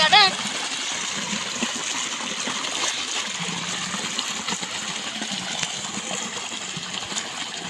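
Water gushing out of a borewell pump: a steady, rushing splash of flowing water continues throughout, with voices talking faintly beneath it.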